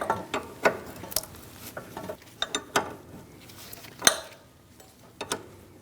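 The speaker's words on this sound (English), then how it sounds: "I'm using a 16mm wrench on the back side and a 22mm wrench on the front side, and we're going to loosen up this top part of the sway bar link." Wrenches work loose the top of a rear sway bar link on a 2008-2014 Mercedes-Benz C300, giving irregular close metallic clicks and clanks, some sharp and loud, with quiet gaps and no talk.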